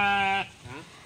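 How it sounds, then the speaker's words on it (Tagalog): Sheep on a farm in the mountains give one loud, close, wavering bleat, followed by a fainter second bleat as it fades. "Sila mga tupa ni ate."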